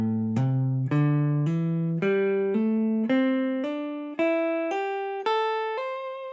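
An electric guitar through a Tube Screamer overdrive plays slurred notes climbing one after another, each note smooth and sustained in an even ascending run.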